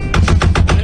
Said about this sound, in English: My window actuators are going out, so it sounds like I'm having a hell of a firefight in here.